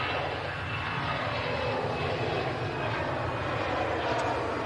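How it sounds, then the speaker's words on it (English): An EasyJet airliner starts its take-off roll at Manchester, its jet engines giving a continuous broad roar that builds slightly, heard from a distance outdoors with no voices over it. "EasyJet on the roll out to Malaga"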